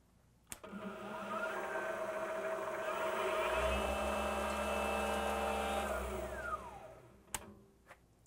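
Precision Matthews PM-728VT bench milling machine starting after a click, spindle motor whining up to a steady, fairly loud hum, then spinning down and falling quiet, ending with a switch clack.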